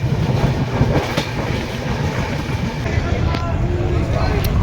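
A train pulls into a railway station before dawn, with a steady rumble and rhythmic clatter of wheels close by, loud and continuous under faint background voices.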